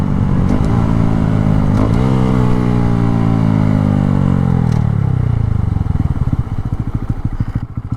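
A Honda Grom motorcycle fitted with a Stunt Lever 1 FNGR clutch hums loudly at close range while riding. Its pitch slides down as it slows, then it settles into a rapid, pulsing idle chug.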